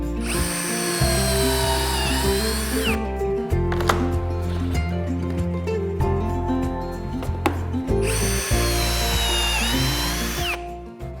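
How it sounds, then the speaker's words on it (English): A power drill whines loudly in two long bursts, drilling pocket holes in the back of a wooden fireplace mantel piece, with quieter clunks and handling sounds of wood between them. "we'll drill a few holes across the back side of this"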